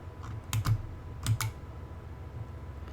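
Computer keyboard keys are typed in two quick pairs of close, crisp clicks, the second pair likely a press of the enter key, against a quiet room hum.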